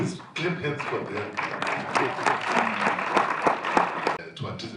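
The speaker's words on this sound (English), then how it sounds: "Please clap hands for them." A symposium audience on election litigation applauds a panel, with dense steady clapping filling the room for several seconds, fairly loud and close, a brief tail of clapping fading at the end.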